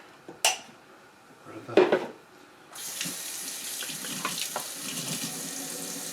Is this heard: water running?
yes